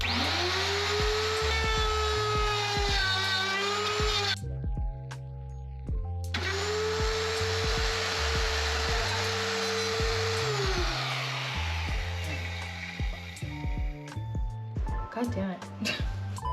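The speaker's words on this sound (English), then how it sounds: "the router to cut out the sink because we think that'll be the most clean looking cut we could possibly do for our sink" A router cutting a sink opening in a van kitchen cabinet, its loud high whine rising and falling as it spins up, cuts and briefly stops, then starts again amid clatter and knocks.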